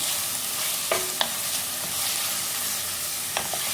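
Two chopped onions frying lightly in a tablespoon of hot oil, hissing in an even, close sizzle with a few sharp clicks of a spoon against the pan.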